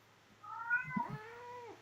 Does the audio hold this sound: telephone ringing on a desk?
no